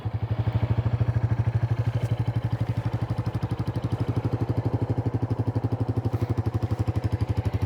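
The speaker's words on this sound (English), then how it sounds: "Let's turn on the ignition and we will fire it up." A Royal Enfield Classic 350 single-cylinder motorcycle fires up and settles into a steady, even thumping idle, loud and close with a regular pulsing beat and no talk.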